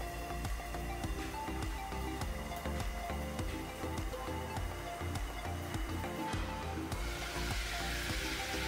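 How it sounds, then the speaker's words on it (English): Catfish pieces sauté in hot cooking oil in a pan, giving a continuous crackling sizzle with scattered pops and faint clinks throughout, steady and close with no talking. "We're just going to saute this for a few minutes."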